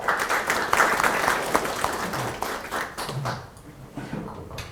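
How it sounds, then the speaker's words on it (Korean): Audience applause at a party members' meeting in Pohang, a dense run of clapping that fades toward the end, with a voice briefly heard beneath it. "박수 부탁드리겠습니다."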